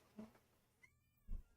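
A house cat meows softly a couple of times in a quiet room, short faint calls separated by near silence.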